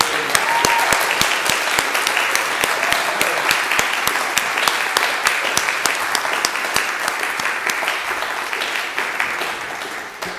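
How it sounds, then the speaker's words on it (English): An audience at a live show applauds the performers with dense, loud, sustained clapping that carries on steadily with no speech over it. "I think all of the performers tonight deserve another round of applause."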